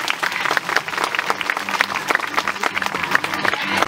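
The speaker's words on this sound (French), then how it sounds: "je te raccompagne sous un tonnerre d'applaudissements pour toi" Audience at a zoo parrot show at the Zoo de la Flèche claps steadily, a dense, lively burst of applause filling the whole stretch with no voices over it.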